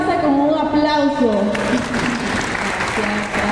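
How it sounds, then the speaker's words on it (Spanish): An audience at a nail-art class in San Pedro Sula bursts into steady, dense applause that fills the room, with someone speaking over the clapping near the start. "hagámosla sentir en casa con un aplauso"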